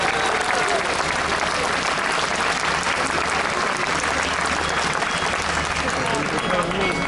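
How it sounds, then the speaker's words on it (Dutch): A crowd at an outdoor equestrian show jumping event applauds its sponsors, a dense, continuous wash of many hands clapping at steady volume for several seconds, with voices faintly mixed in. "om voor al die sponsoren een heel groot applaus te geven"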